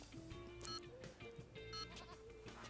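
A goat bleats in Tony Hawk's Underground 2, giving a couple of short, wavering cries over background game music.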